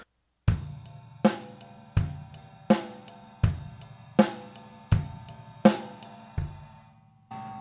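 A basic rock drum beat with the time kept on the ride cymbal instead of the hi-hats, heard alone as steady, evenly spaced hits whose cymbal wash rings over a low drum thud, played close and fairly loud.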